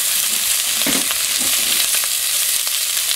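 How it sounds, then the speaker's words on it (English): Sausages browning in a hot pan give a loud, steady, close sizzle with faint stirring scrapes underneath, and no one speaks. "after these sausages start to brown up, we're going to add in a tablespoon of minced garlic"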